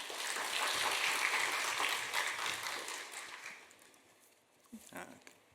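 Congregation applauding in a church at a Saturday dawn service to welcome a missionary, a broad loud wash of clapping that gradually fades, with a voice heard near the end.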